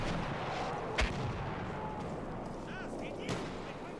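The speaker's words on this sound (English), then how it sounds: "What happens if you actually die to the artillery?" Artillery shells land in Battlefield 1 multiplayer, sharp distant thumps around the first second and again later under a steady din of battle ambience, with a player talking faintly.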